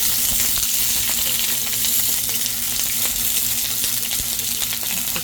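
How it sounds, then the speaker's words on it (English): Tofu fries in a pan with a steady, loud sizzle and occasional crackles, close up and without talking. "For now, I'm going to fry my tofu."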